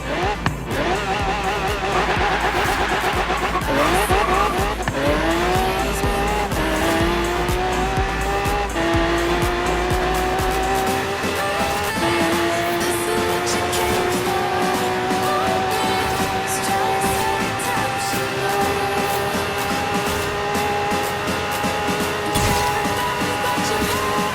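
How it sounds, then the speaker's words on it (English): Race cars in the driving game Forza Horizon 3 roar loudly as engines rev up through rising gears, tires squealing and skidding along the way, one continuous near engine note climbing steadily. "The cars sound awesome in this game."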